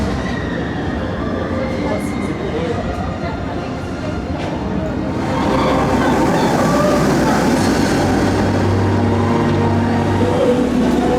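A loud rushing rumble of roller coaster trains roaring past nearby at Phantasialand, swelling midway and continuing with clattering wheels and a bright squeal.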